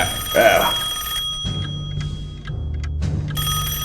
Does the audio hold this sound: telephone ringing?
yes